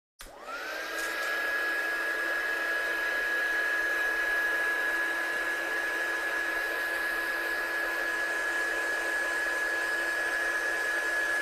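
A hair dryer blows steadily on a craft card, a loud continuous whine with a high tone that holds unbroken from start to finish.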